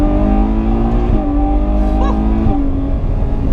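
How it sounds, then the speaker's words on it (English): A Ferrari 812 Superfast's 800-horsepower V12 on the Fiorano track, a loud, close, sustained engine howl with brief shifts in pitch as it changes gear, filling the whole stretch. "800 horsepower Ferrari V12."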